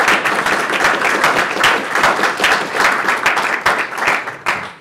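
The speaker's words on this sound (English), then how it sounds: "let's give a round of applause for our panel members." An audience at a political candidate's economy forum claps for the panel members, a steady room-filling round of applause with individual claps audible, holding level then thinning slightly near the end.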